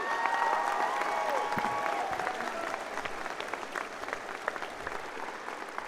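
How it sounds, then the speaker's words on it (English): A high school graduation audience applauds two graduates in one more round of clapping. The steady, dense applause fades gradually, with brief tonal voices or cheers early on. "Give them one more round of applause."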